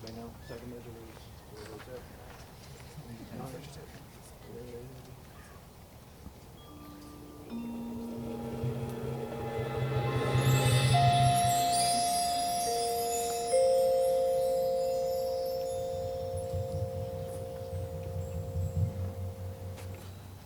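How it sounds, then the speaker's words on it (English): Percussion builds gradually into a shimmering swell of cymbals and sustained metallic tones, rising in loudness midway and ringing on with low rumbles beneath. "So the first color is created through our percussion section."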